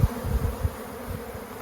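A honeybee swarm buzzes in a laundry basket, a close, continuous drone of many bees with low thumping bumps near the start.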